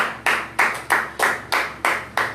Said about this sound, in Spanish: Un aplauso al Señor por esa palabra.